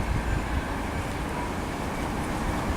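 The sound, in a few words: Class 380 ScotRail electric train at Linlithgow station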